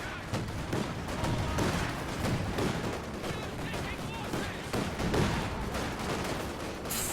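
Gunfire from a Company of Heroes 2 battle with a Soviet Maxim machine gun, dense rattling bursts and scattered explosions running continuously under a commentator's voice.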